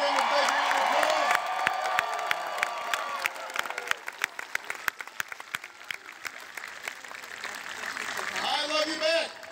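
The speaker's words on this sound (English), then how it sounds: "Please give him a big round of applause." At a political speech in New Hampshire, a large crowd cheers and whoops for Governor Lynch, then breaks into dense clapping that thins out. Shouts rise again near the end, with voices under the noise.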